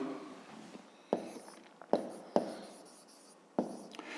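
A pen writes out a fifth-grade math exercise on paper, a quiet close scratching broken by several sharp taps and strokes at irregular intervals.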